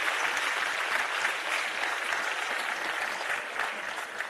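Sustained round of applause from an audience honouring railway workers at a ministerial launch event for a passenger rail service, dense and even clapping throughout, moderately loud with no talk.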